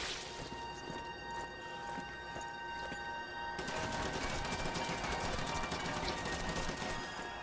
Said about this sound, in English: So now we've got a machine gun to walk around with.